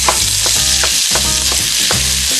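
Ground beef fries with browned onions in a loud, continuous sizzle, with rhythmic scraping and stirring strokes of a utensil repeating throughout.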